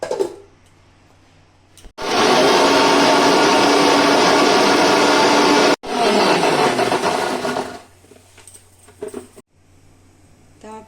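Boiled onions and tomatoes are ground into a masala paste for paneer masala. A loud, steady whirring grind runs for about six seconds with a brief cut midway, then fades into quieter clattering.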